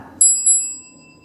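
A bell is struck twice in quick succession, its bright, sustained ringing overlapping and slowly fading while a low background rumble continues.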